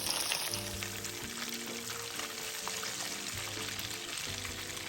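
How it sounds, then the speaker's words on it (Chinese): Anchovies deep-fry in a pot of oil heated to medium temperature, giving a continuous soft bubbling sizzle at close range, steady and fairly quiet throughout. "将预先备好的江鱼仔放入油炸"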